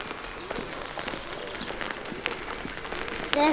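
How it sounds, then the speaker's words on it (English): Light rain pattering on a surface, soft scattered drops over a quiet background, close and fairly faint. "It's still raining."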